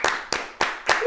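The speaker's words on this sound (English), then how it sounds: "round of applause for Michael." Four sharp, evenly spaced hand claps close to the microphone, a brief round of applause for a podcast guest in a small room.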